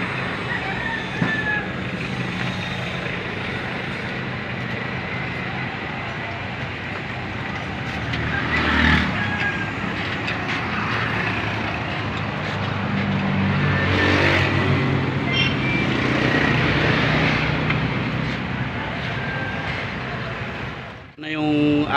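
A Mitsubishi 4D56 diesel engine in an L300 van runs after a full overhaul, a steady rough idle being broken in, droning close and loud with a slight rise midway, while people talk over it.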